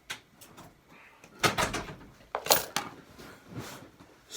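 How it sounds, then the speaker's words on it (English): A home office door being shut, giving a few knocks and thumps, the loudest about midway and then a final latch-like clunk. "Got to close my door."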